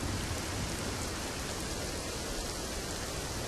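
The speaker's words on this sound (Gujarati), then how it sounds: "પંથકમાં ભારે વરસાદ, વાશેરા કંપા વિસ્તારમાં 3 ઇંચ કરતાં વધુ વરસાદ થયો છે" Heavy rain pours steadily during a downpour in the Vashera Kampa area of Aravalli, Gujarat, a dense, continuous hiss of falling water that stays even and unbroken throughout.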